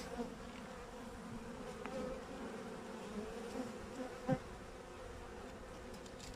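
Steady low buzzing of many honeybees around a hive, continuous and close, with a few faint clicks.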